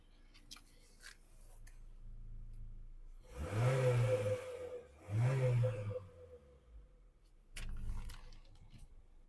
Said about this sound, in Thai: เดี๋ยวเรามาฟังเสียงเครื่องยนต์กันค่ะ